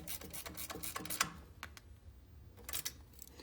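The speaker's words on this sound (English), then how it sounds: "a little ratchet and wrench works well" Small ratchet and wrench turning a 5/16 bolt while installing active suspension on a 2014–2020 Harley, a quick run of close, crisp ratcheting clicks, a pause, then a few more clicks.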